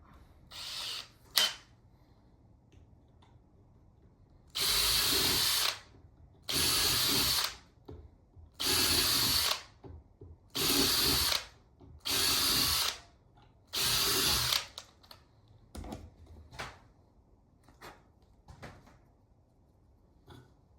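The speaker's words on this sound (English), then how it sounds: "go back to a 4mm quick and drill those out." A power drill with a 4mm bit whines through metal in six steady bursts of about a second each, separated by short pauses, with a few clicks before and after.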